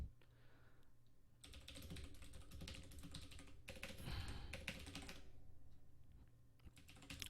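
Steady bursts of rapid typing on a computer keyboard during an online League game session, close and crisp, with brief pauses between flurries of keystrokes and no talking.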